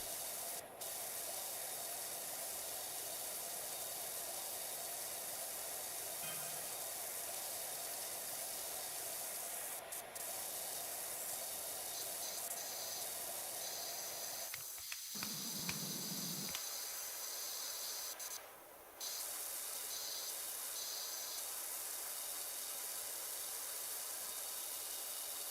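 A power washer sprays a porch roof in the video game Power Wash Simulator, a continuous loud hissing jet that runs almost unbroken, with a brief dip in the middle and no talking.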